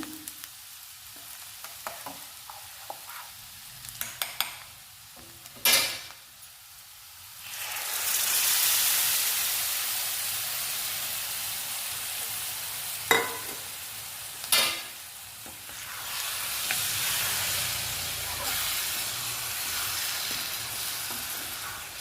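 Gongura leaves frying with eggs in a pan for a curry: an early stretch of clinks and scrapes from stirring, then a loud sustained sizzle broken by sharp utensil knocks against the pan.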